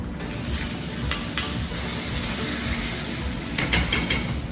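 Rava semolina khichdi is stirred in a pan, a steady sizzling fry with scraping and clattering of the spoon against the metal, a few sharper knocks near the end.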